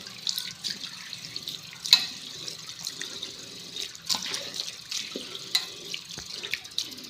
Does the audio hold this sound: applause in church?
no